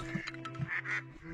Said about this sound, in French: 2 canards arrivent et ils viennent encore une fois magnifiquement.